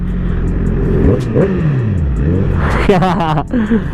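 A Honda CBR 1000cc motorcycle roars close by, the engine note swinging up and down through rapid revs and gear changes, with loud wind rush and a rider's voice talking over it.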